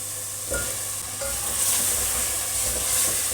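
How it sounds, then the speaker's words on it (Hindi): Potatoes hiss and fry in a spiced masala while being stirred, a steady close sizzle with a few soft scraping stirs and no voices, part of an aloo matar mungray sabzi. "अब मैं इसमें पहले आलू डालूँगी, आलू डाल के इसकी बुनाई करूँगी।"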